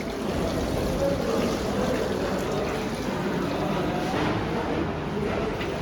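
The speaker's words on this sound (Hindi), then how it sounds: "ये देखिए ये सारा पानी यहाँ से आ रहा है।" Water running and trickling steadily from a leaking wash basin at the stopper fitting, a continuous close splashing flow that holds an even level throughout with no talking.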